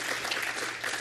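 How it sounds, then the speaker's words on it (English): A lecture audience gives a round of applause for two colleagues, a brief, dense wash of clapping at moderate volume with no voices. "we can give them a round of applause"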